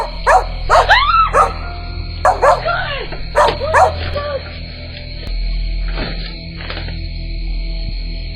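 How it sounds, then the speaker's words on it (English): A dog barks in a series of sharp yips and whining barks, loud and close, in bursts over the first half, then quieter isolated barks and whimpers follow over a low steady hum. "her dog reacted too, growling alert as if it could sense something she couldn't see"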